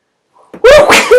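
One sharp, loud human sneeze, a brief intake followed by an explosive burst, close up with no talking around it.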